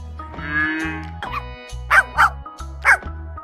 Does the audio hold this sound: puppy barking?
yes